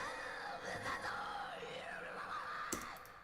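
Dry, unprocessed scary voices from the Abysmal Voices horror sample library, faint, eerie wailing and moaning tones with shifting pitch that swell and fade over a few seconds.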